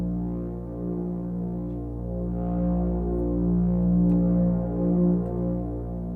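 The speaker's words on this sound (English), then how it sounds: "if we then apply some of that reverb" A synthesizer on the iVCS3 iPad app plays a low, sustained droning tone through spring FDN reverb, thick with steady harmonics and a slow throbbing swell that rises and falls without any voices.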